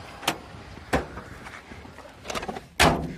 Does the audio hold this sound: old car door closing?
yes